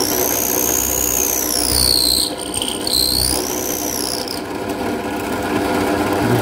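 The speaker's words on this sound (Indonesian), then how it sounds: "saya nyalakan dulu bornya" A power drill bores a hole through the body of an acoustic guitar, a loud continuous whine with wavering high tones that dip and recover as the bit bites into the wood, close and steady throughout.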